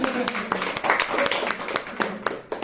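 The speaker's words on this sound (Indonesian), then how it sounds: "kalian harus benar-benar ya tepuk tangan dulu buat kalian" Madrasah primary students in a microteaching class clap for themselves, a loose patter of individual hand claps with distinct spikes, mixed with children's voices talking.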